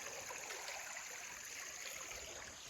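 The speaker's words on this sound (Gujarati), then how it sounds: "જો કેટલું પાણી જાય નાવાનું મન થાય એવું" A stream of water pours over a big rock in a rural creek, giving a steady, continuous rushing hiss that stays fairly faint and even throughout, with no voices.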